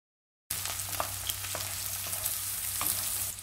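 Onions, cinnamon and fennel seeds frying steadily in hot sesame oil, a continuous close sizzle with a few sharp crackles and pops as the pan is stirred, starting abruptly after a short silence.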